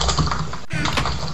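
Loud computer keyboard typing during a Minecraft session, a dense rapid clatter of keystrokes close to the mic with a brief break midway, under a noisy background.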